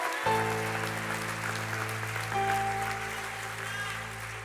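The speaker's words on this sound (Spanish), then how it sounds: "¿Puedes darle ese aplauso al Señor?" A church congregation applauds during a Sunday service, with a broad, steady clatter of clapping layered over a sustained keyboard chord that holds through the whole stretch and shifts once partway.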